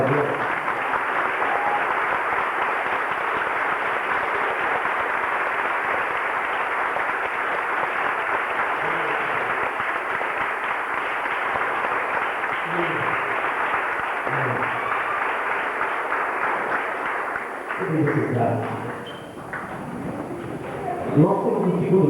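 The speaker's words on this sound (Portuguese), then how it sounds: "Vamos aplaudir para Deus." A church congregation at the inauguration of a social hall applauds in a long, steady wash of clapping, which fades near the end as voices take over.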